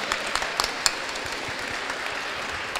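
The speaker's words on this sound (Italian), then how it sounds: "Fate un applauso" An audience applauds to welcome guests at a morning session of an illustration festival, steady moderate clapping from a room full of people with a few sharper individual claps standing out.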